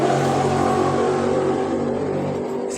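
Motorcycles revving close by, a loud continuous engine drone with a slight fade near the end, no talking.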